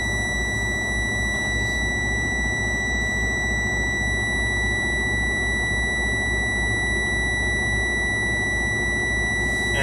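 A truck cab's low air pressure warning buzzer sounds steadily and loudly without a break, as a constant high tone over the idling engine rumble.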